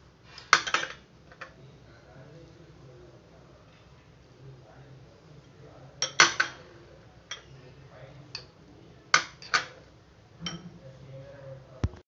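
Butter, garlic and coriander being mixed in a bowl for garlic cheese bread toast, giving a few sharp clinks and scrapes of a spoon against the bowl in scattered bursts over a faint background hum.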